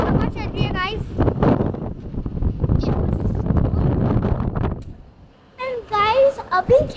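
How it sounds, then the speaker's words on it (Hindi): Strong wind on a sunny seaside day buffets the microphone with a loud, rushing roar under someone talking and children's voices, easing briefly before chatter returns. "इतनी ज़्यादा हवा चल रही है गाइस"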